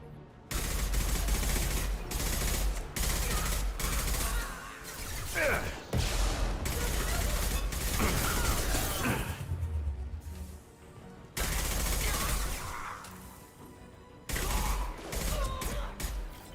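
Rifle gunfire in the Mass Effect 2 video game rattles in long rapid bursts with short pauses between them, loud and close, with brief voices in between.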